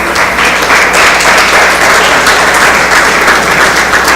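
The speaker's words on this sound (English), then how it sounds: "50 years is worth at least one round of applause" A university faculty audience applauds to mark a fiftieth anniversary, a full, loud, sustained round of clapping from many hands filling the whole stretch.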